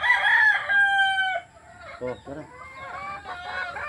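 Backyard hens and a rooster of native Philippine stock loudly clucking and crowing up close at first, then quieter cackles and calls continue while someone talks briefly over them.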